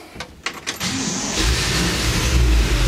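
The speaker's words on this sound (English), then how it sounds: "I'm gonna start this car up for you." A 1955 Chevrolet Bel Air convertible cranks with a few clicks and whirs, then fires and settles into a loud, steady idle with a deep rumble close by.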